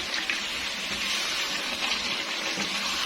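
About a cup of water pours into a pot of chicken, a steady rushing splash heard close and fairly loud for a few seconds with no talking.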